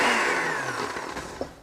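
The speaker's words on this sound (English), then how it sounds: "we only got this cheap blender" A cheap blender mixes sauce in a brief burst, its motor whine high and strong at first and then tapering as it slows, ending with a small knock.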